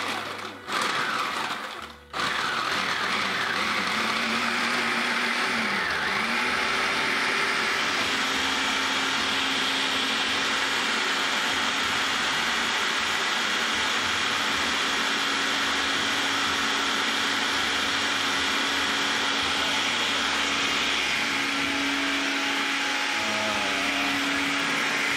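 A kitchen blender running continuously at a steady loud whine for the full stretch, briefly cut at the very start, with pitch shifts as the load changes.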